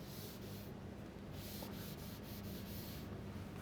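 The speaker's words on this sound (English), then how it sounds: "I'll just erase this." A blackboard is rubbed clean during a physics lecture. Short rhythmic scrubbing strokes come in quick bursts at a fairly faint level, and nobody speaks.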